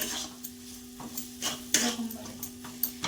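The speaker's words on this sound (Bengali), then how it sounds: "এবার এটাকে নাড়িয়ে নেবেন নাড়িয়ে একটু দু মিনিট মতো ভালো করে ভেজে নেবেন" Chickpea dal filling for kochuri being stirred and fried in a kadai, with a steady sizzle under repeated scraping clinks of a spatula against the pan, several sharper knocks standing out, close and with no talking.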